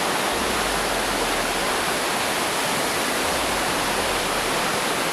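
A river rushes steadily through a remote, secluded spot, a dense broadband roar of flowing water that stays loud and unbroken with no voices over it.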